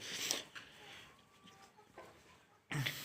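Golden Misri hens in a poultry shed cluck in short bursts, a loud squawk at the start and another near the end, with softer clucks and shuffling between them.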